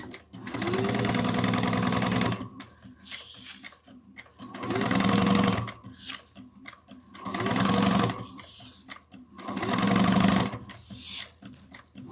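A sewing machine stitches a 3/8-inch seam on a zipper case top with back stitching, running in four bursts of fast, steady mechanical whirring, each about two seconds long, separated by short pauses with quiet handling noises, close and without talk.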